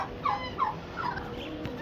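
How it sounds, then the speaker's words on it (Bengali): A turkey on a farm gives a few brief gobbling calls at moderate distance over a steady low rumble of outdoor background noise. "টার্কি যেটা অপেক্ষা করছে বাকি সবগুলোর জন্য যে সবাই কখন আসবে একসাথে খাবে"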